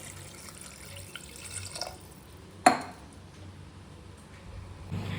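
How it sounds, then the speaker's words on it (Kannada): A glass of water poured into mutton in a pressure cooker gives a faint, close trickle and splash, with one sharp clink partway through and a low rumble near the end. "ಈಗ 1 ಲೋಟ ನೀರು ಹಾಕ್ಕೊಂಡು ಕೂಗಿಸ್ಕೊಳ್ಳೋಣ."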